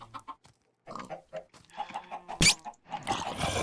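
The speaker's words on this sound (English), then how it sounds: "Come to me, my chickens." Chickens in a video game cluck in short, repeated bursts, with a sharp louder noise midway and busier clucking toward the end, no talking over them.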